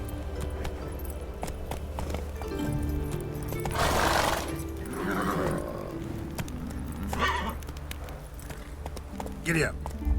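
Horse hooves galloping in The Witcher 3, a continuous clip-clop beneath game music and someone talking, with neighs and whinnies rising at intervals.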